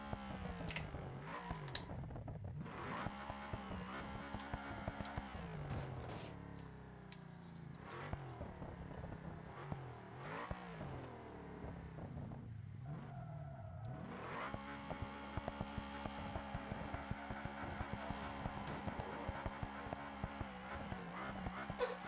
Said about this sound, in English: now we're gonna go do burnouts